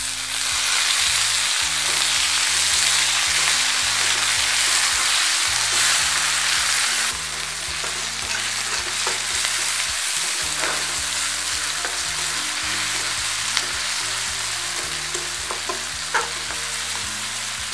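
Tomatoes drop into a pan of fried onion and sizzle loudly and steadily, easing slightly after a few seconds as stirring scrapes and taps continue up close.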